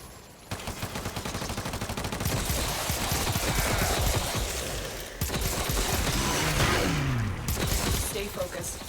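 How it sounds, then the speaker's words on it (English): Dense gunfire from the video game Warframe, with bursts of automatic weapons and overlapping shots running almost continuously under game music and effects, with a brief break midway. "what is that operator shooting at"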